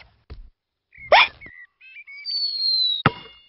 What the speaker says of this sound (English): Oh dear, George's hiccups are spoiling the game.